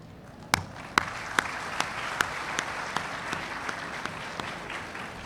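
An audience at a Dawood University anniversary event applauds, a steady wash of many hands with sharper rhythmic claps standing out at first, then fading a little.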